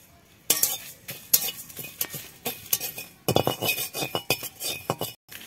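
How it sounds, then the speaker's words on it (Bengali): Coriander and cumin dry-roasting in a pan alongside chillies, with a spoon stirring and scraping in a busy run of clinks and rattles that goes on through most of the clip and drops out near the end. "এখন দিয়ে দেবো ধনে আর জিরা"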